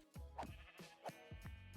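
Sheep in Minecraft bleat several times in a row, each a short wavering cry in a quick rhythm, moderately loud and close with no talk over them.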